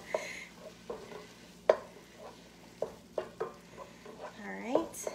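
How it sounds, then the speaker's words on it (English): A utensil scrapes and stirs meat cooking in a pan for a cheesy chili spaghetti squash casserole, making intermittent clinks and scrapes over a faint sizzle, with a brief voice near the end. "just stirring my meat because I think that is the next step"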